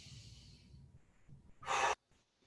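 A deep breath taken during a foundation-training exercise, a soft inhale followed by one loud, forceful exhale near the end, close to the listener.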